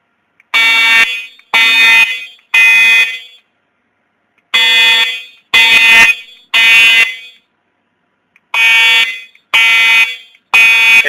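A school fire alarm sounds during an evacuation drill, a loud electronic horn blaring in groups of three long blasts separated by pauses, repeating three times, with no voices.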